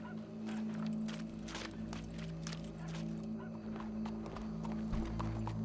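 A horse in the video game Red Dead Redemption 2 moves steadily with soft clip-clopping hooves over a constant low droning ambience, with no one speaking.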